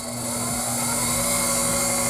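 An electric motor hums steadily with a bright, even whine as it is sped up, loud and continuous with no pauses.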